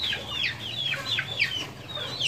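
Aseel chickens cluck and chirp repeatedly while feeding at a farm in Mandi Bahauddin after rain, a string of short close calls over a low background hum.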